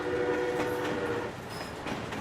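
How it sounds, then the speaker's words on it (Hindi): A train slowing toward a stop, steady rumbling carriages with clattering rail noise and a faint distant whistle tone, moderately quiet and heard alone as a sound effect. "रेलगाड़ी अब रुकती चली गई थी।"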